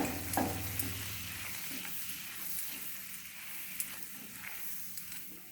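Flour being roasted in two spoons of melted butter in a hot pan for white sauce, a soft continuous sizzle with light stirring scrapes and a few clinks, no voices.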